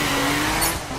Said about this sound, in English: nothing complements rain-slick streets like squealing tires